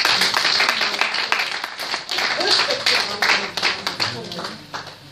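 Audience applause at a church relationship TV programme, a burst of clapping that swells and fades unevenly, with talk and voices running alongside.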